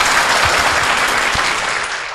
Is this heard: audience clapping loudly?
yes